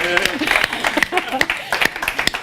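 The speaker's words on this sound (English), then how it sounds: "A big round of applause for our volunteers." An audience at a London talk gives a round of applause for volunteers, the scattered, uneven clapping close and fairly loud with speech mixed in.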